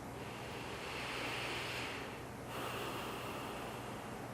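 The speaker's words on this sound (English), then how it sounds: "So let's just take a breath to prepare" A slow breath during a calming exercise, with a long broad inhale followed by an exhale through the nose. It sounds close and steady, with no talking.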